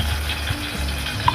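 Two spoons of ghee heating in a kadai on a lit stove give a steady, soft sizzle and crackle, close by and continuous, with one brief brighter pop near the end.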